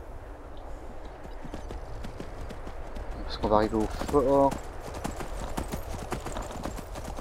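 Rapid hoofbeats of a horse in Skyrim run steadily, with a short whinny partway through, while a person talks over the galloping.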